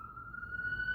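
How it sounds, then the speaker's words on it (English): A siren on a New York street, a single steady wailing tone heard at moderate distance over low background rumble. "Sirens."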